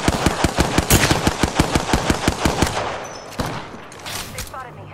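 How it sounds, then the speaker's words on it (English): Rapid automatic gunfire in Apex Legends chatters in a steady fast stream of loud shots, then tapers into fainter scattered fire and ringing tail. "They spotted me. I'm taking shots."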